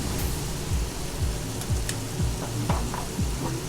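Two keto burgers fry in a pan, seasoned with black pepper, giving a steady close sizzle with a run of low, regular thumps or bumps beneath it and no talking.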